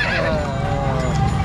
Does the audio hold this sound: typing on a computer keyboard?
no